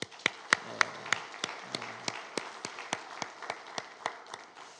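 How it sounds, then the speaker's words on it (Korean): At a Christmas thanksgiving church service, the congregation claps in a steady, evenly spaced rhythm of distinct, moderately loud hand claps, about three per second, with little else audible. "우리 성도님들 향해서 우리 박수하겠습니다"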